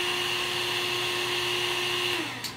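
A blower on a 3-in-1 water vendo foaming machine runs with a steady, loud whirring hum and a constant tone, which slides down in pitch as it winds down near the end.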